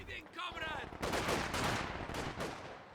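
Machine gun fire in a real-time strategy game rattles in dense, continuous bursts across most of the moment, loud and close, following a brief voice at the start.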